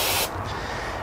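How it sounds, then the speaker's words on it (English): A short, sharp hiss as carb cleaner is sprayed onto a carburetor part from a Toro Recycler 22-inch mower. The burst is close and ends abruptly, followed by quiet room tone. "I'm gonna spray it off, but making sure to keep the rubber away from the carb cleaner completely."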